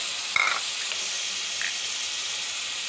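Browned koftas frying in a pan as water, yogurt and spices go in, giving a steady bright sizzle with a sharp splash at the start and a faint clink later, close and alone.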